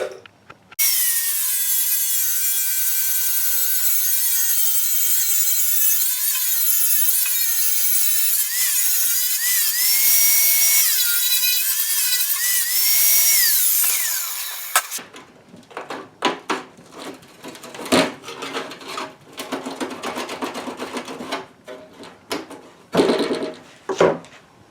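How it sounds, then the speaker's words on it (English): An angle grinder bites into the metal of a rusted Chevy C10 fender bottom with a loud, sustained high-pitched whine for about fifteen seconds, then gives way to rougher scraping and intermittent cutting noises. "Now I'm going to go ahead and grind the side of this down to where it laps over"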